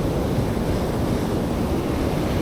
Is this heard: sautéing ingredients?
no